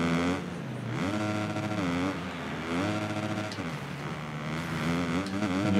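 Motocross bikes race in MXGP Pro, their engines wailing steadily and loudly throughout, with pitch climbing and dropping in repeated sweeps as the riders rev through gears on the MX2 Italy track.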